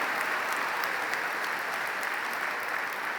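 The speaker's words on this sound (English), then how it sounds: "give your principal a big, thunderous round of applause if you would" A large arena crowd at the Centennial High School 2023 commencement ceremony applauds the principal, producing thick, continuous, even clapping with no pauses or talk over it.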